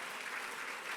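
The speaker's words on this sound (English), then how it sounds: "Let's have a round of applause." Audience applause fills a hall at the 2019 Netball World Cup draw, a steady, dense wash of many hands clapping at moderate volume with no voices above it.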